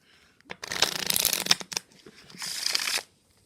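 A deck of playing cards being shuffled up close, two crisp riffling bursts separated by a short pause, bright and fluttery against near silence.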